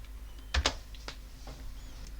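Keys clack on a computer keyboard as a web address is typed. A few quick, close, faint keystrokes come in a short burst, with no talking.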